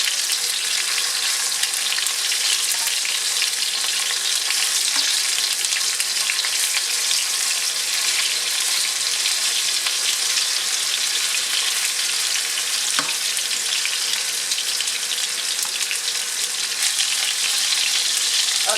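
Beef stew meat sizzles and fries in a hot pot, a steady, loud crackling hiss that continues unbroken, with occasional stirring clicks.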